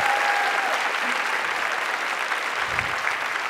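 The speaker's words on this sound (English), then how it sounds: "How about another round of applause for Tarana Burke?" An audience at a conversation event applauds steadily and fairly loudly for the whole stretch, a dense, even patter of many hands with no voices standing out.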